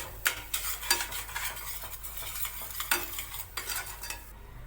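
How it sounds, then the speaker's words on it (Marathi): Chilli powder and turmeric masala cooking in oil for patodi bhaji, heard as repeated scraping stirring strokes and soft sizzling close by, with no voices. "मी याला छानपैकी तेल सुटेपर्यंत या मसाल्याला शिजवून घेतो।"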